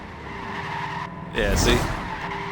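Tires skid and squeal under hard braking in Forza Horizon 4, a loud burst rising midway over the steady hum of a car engine, with a voice speaking briefly.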